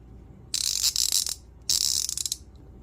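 A Duratech 90-tooth teardrop ratchet with a pawl-style design and thin backing plate clicks in two close bursts of fast, fine, tightly spaced ticks, separated by a short pause.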